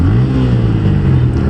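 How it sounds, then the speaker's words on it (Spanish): A Bajaj Pulsar N160 motorcycle engine revs high and steady, a loud, close, continuous drone with no talk over it. "pero esta moto usted le revoluciona alto"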